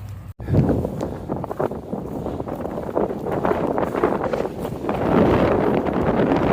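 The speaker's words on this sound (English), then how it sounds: "A little windy." Steady wind buffeting a microphone on the American Discovery Trail, a continuous rough low roar with gusts that swell toward the end, no voices.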